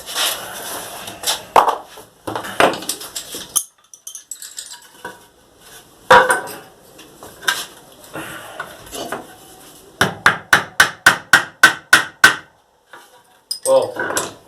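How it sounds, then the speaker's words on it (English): Sharp metallic hammer strikes driving wood into a drilled hole indoors, irregular at first, then a rapid run of about eight evenly spaced blows, fairly loud and close. "I'm just going to hammer it in there"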